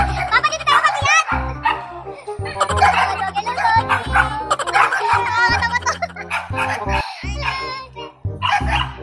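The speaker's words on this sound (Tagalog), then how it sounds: "Anong dami pa aso dito sa gilid." Several dogs bark by a roadside, with loud, repeated yaps in quick bursts mixed with people talking nearby and a busy, crowded background.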